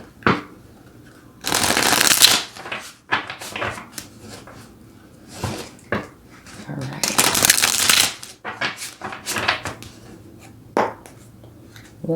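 Tarot and oracle cards being shuffled in bursts of riffling, flapping rustle, broken up by taps and soft handling noises, with a voice talking over parts of it.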